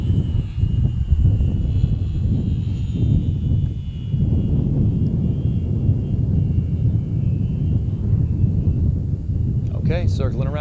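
A model airplane at a design-build-fly competition drones through a loop, a constant rumbling engine buzz with wind noise that swells and dips, joined by a brief chirp near the end.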